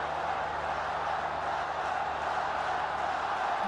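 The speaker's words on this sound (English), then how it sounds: "You can hear this crowd" The crowd at a cricket stadium in Lahore during a Pakistan vs New Zealand T20 match forms a dense, steady roar of murmur from a large distant crowd, unbroken and even.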